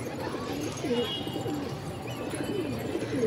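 Pigeons coo steadily in a loft, soft repeated throaty calls from several birds close by, layered over a low background hum.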